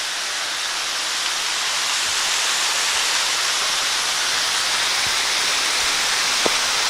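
Water pours steadily down from a reservoir on a state park trail in Hickory Run, a constant broad rushing hiss with no pauses, close and loud throughout.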